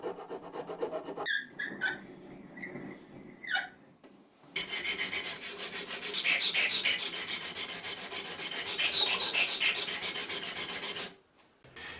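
A wooden knife blade with a drop point and full convex grind is filed and sanded by hand. Short, separate rasping strokes come first, then a long, dense run of steady scraping at close range, with no voices.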